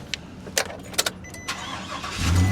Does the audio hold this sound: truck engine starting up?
yes